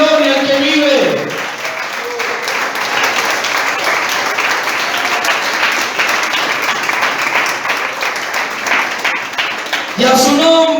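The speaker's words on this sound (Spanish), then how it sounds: "Aplauda al que vive, denle gloria al que vive." A church congregation applauds steadily for about ten seconds, dense and loud, with voices and shouts mixed into the clapping at the start and end.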